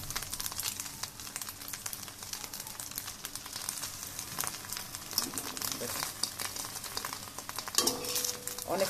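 Eggs with garlic and onion frying as an omelette in a hot pan, a steady close sizzle and crackle running throughout with occasional scraping and stirring, a voice speaking over it.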